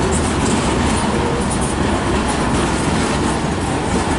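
A CN freight train hauling car carriers rolls past at close range, a loud, continuous rumble of wheels and wagons filling the whole stretch.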